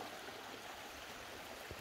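A mountain stream in the Combe du Pilouvi gorge above Lake Biel rushes with a steady, faint, even wash of flowing water, with no voices or other sounds.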